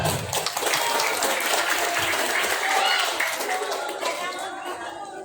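Applause from an audience at a school farewell and thanksgiving event for graduating 12th-grade students, a dense steady clapping that swells early and then slowly fades, with voices mixed into it.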